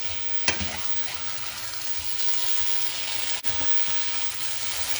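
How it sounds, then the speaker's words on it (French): Pork shoulder chops fry in a pan with a steady, close sizzle that carries all the way through, broken only by a brief clatter near the start and a short dip later on. "On essaye de bien les mettre dans la poêle."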